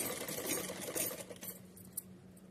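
A sewing machine stitching a folded fabric strip for a small deity's summer dress, whirring in steady rapid bursts at close range, with a few brief pauses and a small click near the end.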